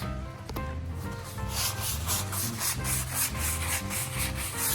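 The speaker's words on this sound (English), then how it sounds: "Give it a good little scrubbing." A dirty spot gets scrubbed with a cleaning product, making close, rhythmic back-and-forth rubbing strokes that repeat steadily without any voices.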